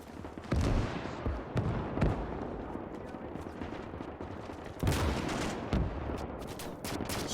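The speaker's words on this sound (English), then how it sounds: "they are getting direct hits with those mortars" Mortar fire slamming into enemy trenches during a WW2 Pacific battle game at Saipan, with repeated loud blasts and rattling gunfire in a dense continuous barrage and sharp impacts at irregular intervals.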